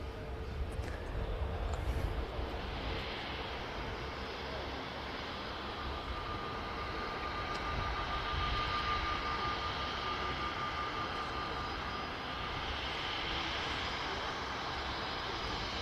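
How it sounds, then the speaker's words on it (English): An easyJet Airbus A320 comes in to land at Manchester Airport, its engines a steady distant roar and whine that swells and holds across the approach and touchdown, heard from outside without talking. "Got an EasyJet A320 about to touch down."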